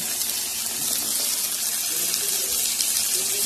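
Water runs steadily into a cooking pan of coriander-leaf eggplant, a continuous close hiss and splash holding at an even level from start to finish.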